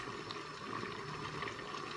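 Pot of water heating on a stove for tagliolini pasta, giving a soft continuous bubbling hiss with faint irregular pops, low in level and without voices.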